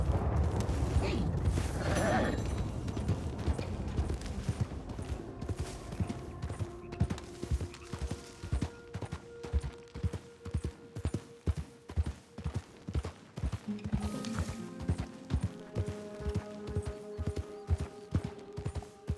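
Horse hooves clip-clop at a steady walking pace in Red Dead Redemption 2, a regular rhythm of close, moderately loud footfalls alongside faint creaks of tack and a soft whinny, with no talk.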